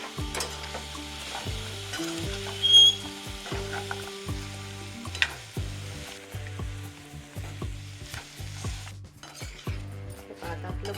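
Raw green mango and jaggery being stirred and sautéed in a pan, a steady soft sizzle broken by repeated scraping strokes and occasional clinks of a spoon against the metal, with no talking.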